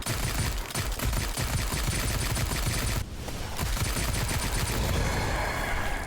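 Automatic weapon fire in the zombie shooter Sker Ritual, a dense rapid burst of gunshots that breaks off briefly midway and then resumes, loud and continuous without speech.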